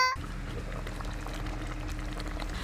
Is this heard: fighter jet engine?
no